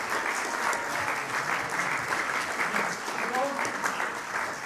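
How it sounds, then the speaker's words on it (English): Applause ripples through a church congregation at a farewell Sunday service, a continuous, moderately loud patter of many hands, with voices faintly underneath. "You might want to save your applause for the end."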